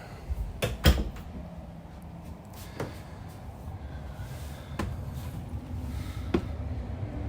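The pantry door of a 2021 camper opens and closes, giving a few sharp clicks and soft knocks spread over several seconds in a quiet interior.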